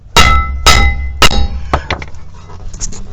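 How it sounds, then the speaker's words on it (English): Hammer blows struck against the back of a brake rotor on a 2016 Subaru Crosstrek during a brake job: three loud, sharp metallic strikes close to the mic, then a few lighter taps and clinks that fade out. "Hammer."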